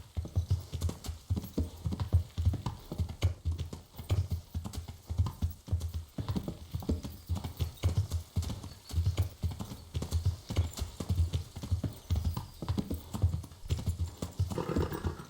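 A horse gallops in the medieval game Kingdom Come: Deliverance, with rapid, steady hoofbeats thudding close by in an unbroken rhythm throughout and no speech over them.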